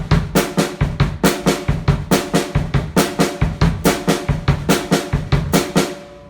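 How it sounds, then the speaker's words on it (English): A drum kit plays a steady groove on bass drum, snare and hi-hat, with close, loud, evenly spaced hits in a repeating pattern and no other sounds. "if we took away the right hand and we had the bass, the snare, and the hi-hat, it'll sound like this."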